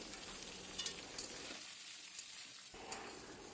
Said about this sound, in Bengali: তো চিকেন, আলু, পেঁয়াজ, ক্যাপসিকাম আবার ভালো করে ভেজে নেব।